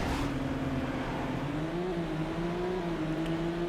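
A race car in Midnight Club II on the PS2 holds a steady, loud engine whine, its pitch climbing slightly as nitrous boost pushes it along, with no voice over it.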